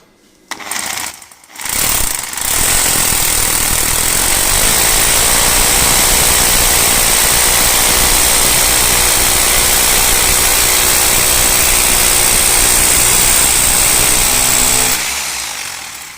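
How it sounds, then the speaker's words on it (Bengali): An electric core drill bores a hole for a water line in plumbing work. After a couple of brief starts, it runs as a loud, steady, close-up grinding drone for about thirteen seconds, then winds down. "এখন আমি এখানে ড্রিল করবো একটা।"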